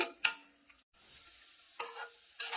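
Cashews, almonds and raisins fry in ghee, making a quiet sizzle under a few distinct spoon scrapes and clicks spread across the moment, close by and without voices.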